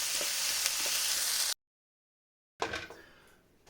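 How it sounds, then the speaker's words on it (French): Sausages and onion compote simmer in a pan over medium heat for a gratin of Montbéliard sausage and Comté, giving a steady, close frying hiss that cuts off for about a second, then returns softer and fades. "On va laisser mijoter encore 5 minutes."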